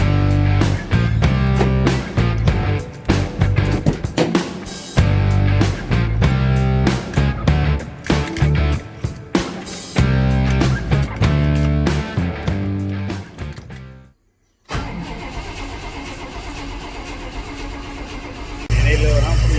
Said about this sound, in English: let's give it some cranking and see what happens